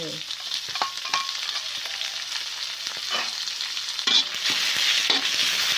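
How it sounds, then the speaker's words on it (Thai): Minced pork stir-frying in a pan with garlic, a steady close sizzle with scattered scraping and clatter of a utensil stirring throughout. "แล้วก็เอาเนี่ยจะหมูสับนี่จจะลงไป"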